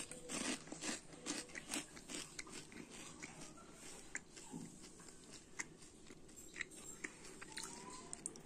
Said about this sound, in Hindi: तो चलिए अब हम ये स्नैक का टेस्ट करके बताते हैं कि कैसा लगता है